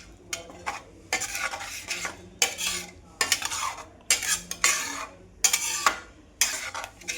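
A spoon repeatedly scrapes and stirs paneer curry in a pan with added cream. The strokes come in uneven bursts over a faint simmer, close by, and no one speaks.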